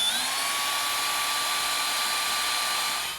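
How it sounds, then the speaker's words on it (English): A small power drill whines steadily while boring a hole near the corner of an RV roof vent garnish ring, a close, continuous high tone with no talk. "Now we need to drill a small hole towards the corner of one of the corners on your garnish ring"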